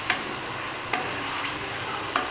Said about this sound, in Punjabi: ਅਤੇ ਗੋਸ਼ ਨੂੰ ਚੰਗੀ ਤਰ੍ਹਾਂ ਨਾਲੇ ਫਰਾਈ ਕਰ ਲਏ